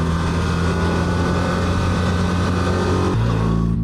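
A BMW R1300RT touring motorcycle engine drones loudly and steadily up close while accelerating in second gear, its pitch dropping abruptly near the end as it shifts into third.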